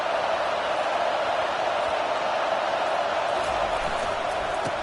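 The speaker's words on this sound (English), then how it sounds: "This crowd bringing the energy and noise early." Steady, dense roar of a college football stadium crowd at an SEC versus Big Ten game, loud and continuous throughout with no single voice standing out.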